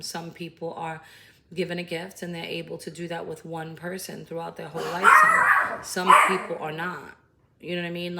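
A dog barks a couple of times in the middle, two rough bursts partly under a person's steady, close talking.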